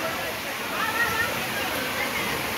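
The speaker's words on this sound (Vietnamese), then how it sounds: "tiếng suối chảy róc rách" Small stream babbling and flowing steadily outdoors beside a food court area, a soft continuous watery rush close by with no break.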